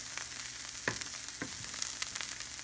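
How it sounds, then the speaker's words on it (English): Bitter gourd sautéing in a pan, a continuous bright sizzle broken by a few sharp scraping stirs and clicks, close and fairly loud with no voices. "So the inside of bitter gourd and the skin got sauteed well."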